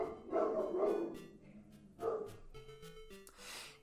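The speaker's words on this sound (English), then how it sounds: "Oh my god, dogs." Dogs bark in a few loud, close bursts, with quieter yips and whimpering sounds between them.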